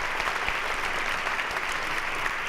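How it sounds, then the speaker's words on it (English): A university audience gives a round of applause for President Holland at a campus event, a dense, steady clapping from a crowd throughout. "Please join me in one more round of applause, thanking President Holland and all of them for a wonderful year"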